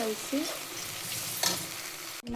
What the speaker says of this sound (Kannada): ಹಿಂಗೆ ಫ್ರೈ ಮಾಡಿ ಎಣ್ಣೆ ಬಿಡೋವರೆಗೂ ಮಿಕ್ಸ್ ಮಾಡಿ